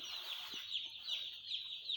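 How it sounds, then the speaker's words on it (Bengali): Broiler chicks, a batch of about 1,750 newly arrived at a poultry farm, give a continuous dense high chirping chorus with no voices over it. "আজকে সকালবেলা আমার মুরগি বাচ্চা আইছে এখানে সতেরোশো পঞ্চাশটা মুরগি বাচ্চা আছে"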